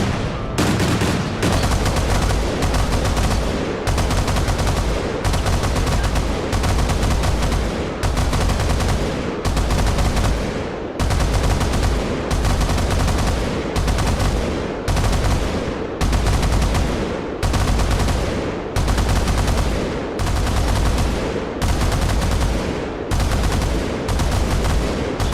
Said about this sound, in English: Shooting blindly around in case there's anyone nearby.